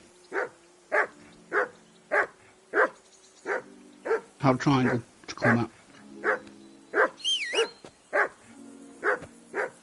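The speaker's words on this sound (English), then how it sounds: "That barking was a pain in the ass." Dog barking in the Kingdom Come Deliverance 2 video game, a steady series of sharp, evenly spaced barks repeating throughout, with a brief stretch of speech in the middle.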